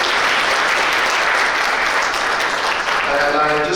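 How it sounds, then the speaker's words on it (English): An audience at a green energy and mobility experts forum breaks into loud, sustained applause, thick and constant from start to finish, with faint voices surfacing near the end. "Please give that big round of applause."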